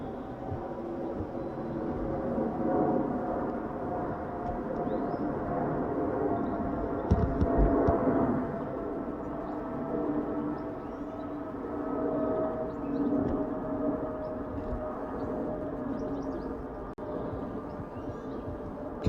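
An Emirates jet arriving on runway 27R at London Heathrow, a sustained low engine roar with whining tonal layers that holds steady at moderate distance throughout, with no voices.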